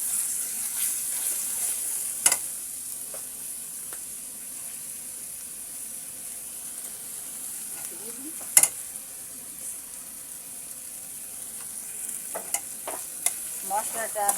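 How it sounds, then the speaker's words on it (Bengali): Spice paste with turmeric and salt fries in a pan with a soft, steady sizzle, broken by occasional sharp spoon taps and scrapes, close and fairly quiet, with no speech. "মশলাটা আমি সুন্দর করে ভেজে নেব যেন আদা রসুনের গন্ধ না আসে।"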